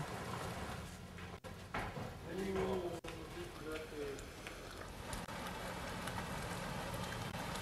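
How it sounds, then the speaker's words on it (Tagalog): Rain falls steadily on leaves, a continuous pattering hiss through the whole stretch, with people talking quietly beneath it. "The rain."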